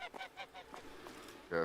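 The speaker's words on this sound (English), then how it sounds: "Oh my god, these goose are so fast." A goose honks repeatedly in a video game: a quick run of nasal, rhythmic honks, moderately close and fairly faint, ending in one louder, longer honk, with no talk over it.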